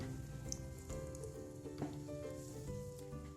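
Sambar vadi, a Vidarbha-style fried snack stuffed mostly with coriander, frying in hot oil, a steady soft sizzle and crackle with faint music underneath.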